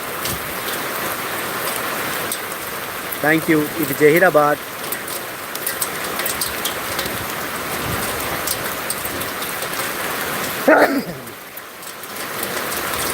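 Heavy rain pours down steadily on a bypass road in Zaheerabad, Sangareddy district, in a constant loud hiss, while someone speaks briefly over it twice.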